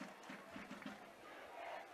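Student cheering section yelling in the stands at a Ross vs. Badin high school football game, a steady crowd roar with bursts of shouting heard from a distance.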